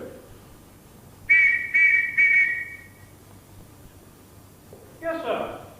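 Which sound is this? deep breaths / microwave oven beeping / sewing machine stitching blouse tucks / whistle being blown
whistle being blown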